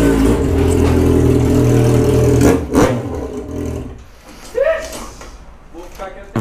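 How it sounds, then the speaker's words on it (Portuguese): Yamaha XJ6 motorcycle fitted with its original exhaust, revving steadily and loud for about two and a half seconds before cutting off, then a few shorter blips, with people talking over it. "Vai, Marcelo, mete marcha nessa moto."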